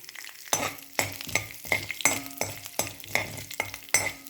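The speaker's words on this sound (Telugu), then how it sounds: "పచ్చిమిరపకాయ అది వేగిన తర్వాత" Green chilies fry in a pan while a spoon stirs them, giving repeated rhythmic scraping strokes about twice a second over a low, close sizzle, with no talking.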